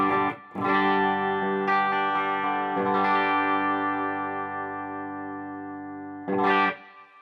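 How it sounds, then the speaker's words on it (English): A clean electric guitar through a Quilter amp with a Fender-style tone rings out in chords, each strum sustaining and slowly decaying, with a bright, slightly chorused sound. "that kind of sound is going to give you any kind of Fender-ish kind of amp sound you want"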